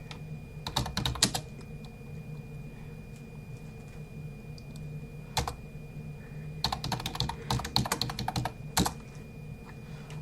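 Keystrokes on a computer keyboard as a sudo command is entered in a terminal, coming in two short bursts of quick clicks with a lone tap between them over a steady low hum, with no one talking.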